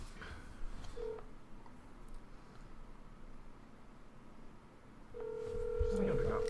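Telephone keypad tones beep near the end as a friend's number is dialed, with ambient room noise and voices talking throughout.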